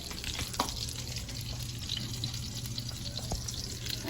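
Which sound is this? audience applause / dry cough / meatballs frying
meatballs frying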